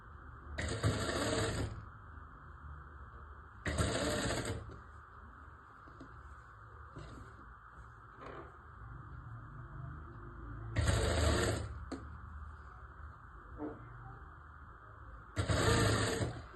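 Sewing machine stitching a baby frock in a few short bursts of rapid whirring, four main runs separated by quiet gaps with faint light clicks, close and moderately loud, no talking.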